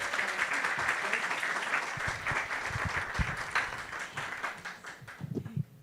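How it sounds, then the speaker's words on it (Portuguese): Audience applause at an alumni evening talk fills the room, steady and fairly loud throughout, with a few heavier claps and thumps near the end. "Bem-vinda, professora Tânia, uma salva de palmas"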